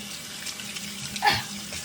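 Tap water running at a sink as a child washes, a soft continuous hiss of flow with a brief splash near the end, close by and without speech.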